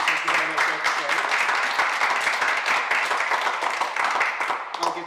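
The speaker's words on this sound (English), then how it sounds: "applauding Susie and Ashley for their presentation" An audience applauds after a presentation, a dense and sustained round of clapping from a roomful of people, fairly loud throughout.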